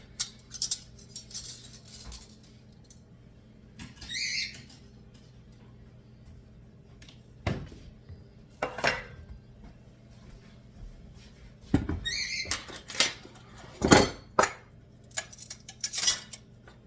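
A 2-inch biscuit cutter pressing through biscuit dough on a counter, heard as scattered metallic clicks, taps and light scrapes, some sharp and close, separated by quiet pauses, with no talking.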